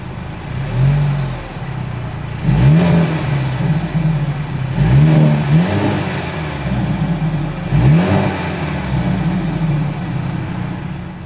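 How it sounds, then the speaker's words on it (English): Exhaust of a 2022 Mercedes-Benz C 300 revved three times, each loud rise and fall separated by a steady idle, heard close up with no talking. "As always, here is that exhaust clip."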